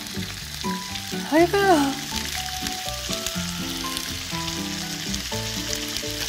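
Thin bulgogi beef slices sizzle steadily in a hot pan, a close, bright crackling fry running throughout while a woman briefly exclaims over it.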